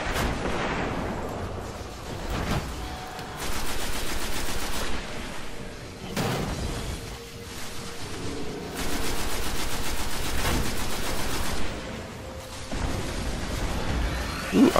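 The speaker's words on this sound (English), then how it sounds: "so I threw a grenade" Video game combat in Destiny, with a grenade going off amid sustained gunfire, dense bursts of shots and booms repeating over about fifteen seconds, loud and close with no talking.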